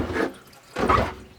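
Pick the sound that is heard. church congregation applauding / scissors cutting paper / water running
water running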